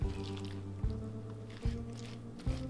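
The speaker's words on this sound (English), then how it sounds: "Let me cut brine cabbage into half." A knife presses through brined napa cabbage to halve it, producing squishy, wet crunches that repeat about every 0.8 seconds, close and moderately loud, with no voices.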